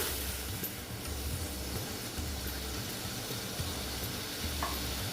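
Water splashed into a hot pan while cooking Bengali rui fish curry hisses and sizzles steadily and fairly loud throughout, with faint stirring scrapes and no voices.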